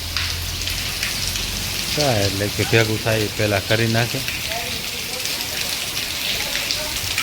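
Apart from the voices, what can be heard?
rain falling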